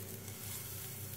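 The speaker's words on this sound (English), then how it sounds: "Now to the same pan that the fish fried in, I'm going to fry the tomatoes slightly." Tomatoes sizzle steadily in a frying pan still holding the fat from fried fish, a soft continuous crackle at close range with no pauses or voices.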